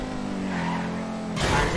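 Cars race in the video game GTA, with an engine tone shifting in pitch that rises into a louder roar near the end, mixed with tire noise.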